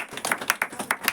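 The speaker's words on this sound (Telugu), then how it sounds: "గట్టిగా చప్పట్లు కొట్టుకోండి." An audience at a Christmas sermon claps loudly and steadily, a run of fast, sharp hand claps close by with no voices over it.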